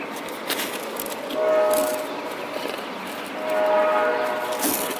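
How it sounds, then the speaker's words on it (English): A train rumbles by in the distance, a broad steady roar that swells twice, with a faint horn-like tone drifting in each time. "I hear the train coming."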